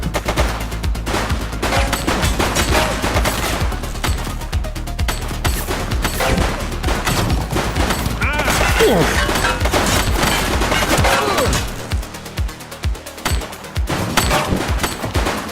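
Rapid gunshots and machine-gun bursts ring out in The Precinct during a police shootout with a gang leader, loud and dense with crashing impacts, firing almost continuously before briefly thinning near the end.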